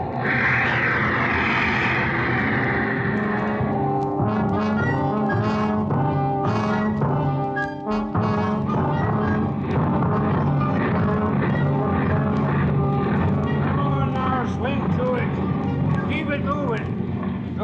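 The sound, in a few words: ship engine room machinery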